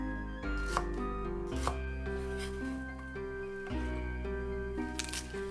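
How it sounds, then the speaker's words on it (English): A knife chops green beans into small sections on a board, with a few soft, widely spaced strokes under steady background music. "Cut 100 grams of green beans into small sections."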